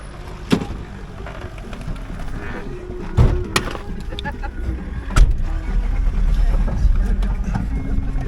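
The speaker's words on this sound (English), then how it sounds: "So I guess we're taking the taxi." A taxi engine runs and pulls away on a street in Agadir Oufella, Morocco, with a steady low rumble building as the car drives off, a few door and body thumps, and people talking over it.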